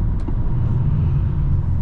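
A 2024 Peugeot Rifter GT on the move gives a steady low road rumble and engine hum heard from inside the cabin, continuous and even throughout.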